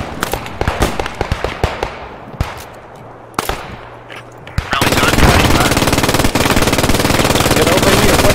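Rapid gunfire crackles close behind a squad in the WWII shooter Post Scriptum, sharp bursts and single cracks at first, then a dense, continuous roar of automatic fire from about halfway on.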